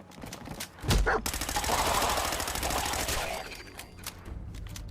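Rapid hip-fired automatic gunfire in Fallout 4's survival mode on PS4, a dense, loud burst of repeated shots lasting several seconds against a fight with ghouls at a farmstead, with quieter scattered shots before and after.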